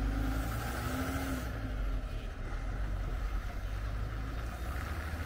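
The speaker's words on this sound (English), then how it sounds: "This big truck full of hay for the cows" A big truck loaded with hay for cows rumbles steadily nearby on a rural road, a low continuous engine drone that dips slightly midway, with no voices.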